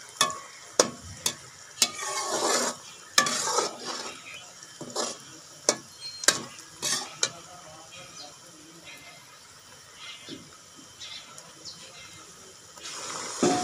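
Bay leaves frying in a chicken karahi while a spoon stirs, with repeated sharp metallic clanks against the pan over a low sizzle. The clanks come in irregular bursts and then fade to quieter frying.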